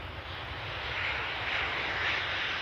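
A Transavia Boeing 737 jet roars steadily at an airport, a loud, sustained broadband engine rush that swells slightly toward the end with no voices over it.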